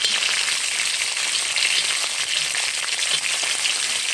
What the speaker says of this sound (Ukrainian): Отакі ковбаски. І трішечки їх обсмажуємо.